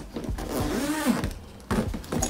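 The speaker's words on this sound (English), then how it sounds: "Really good sturdy zippers." A sturdy zipper on an Ogio 9800 travel bag is pulled in close, quick rasping strokes, two bursts separated by a brief pause.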